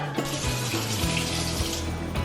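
Starchy pasta water is poured into a pot of vegan rasta pasta, giving a steady rushing, splashing pour with faint clinks, close and continuous with no talking.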